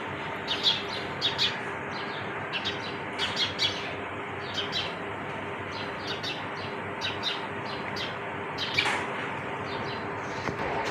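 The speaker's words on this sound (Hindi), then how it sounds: "ये जो परिंदों की आवाज़ें होती हैं चहचहाती, बहुत प्यारी लगती हैं" Small birds chirp and tweet in quick scattered calls over a soft steady background hum, moderately near, with no talking.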